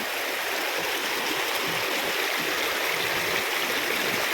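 Steady rushing water of a stream at Marilag Falls, a broad, continuous hiss filling the whole stretch, close and fairly loud with no talk over it.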